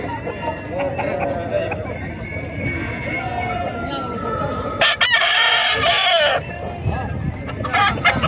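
Roosters and hens at a weekly livestock market crow and cluck close by in repeated loud bursts, with goat or sheep bleats and voices mixed into the busy background.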